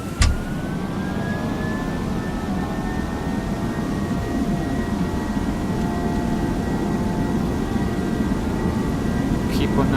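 A simulated airliner accelerates down the runway on takeoff in Microsoft Flight Simulator X, its jet engines holding a steady, loud roar with a rising whine that climbs and levels off, while voices talk over the noise.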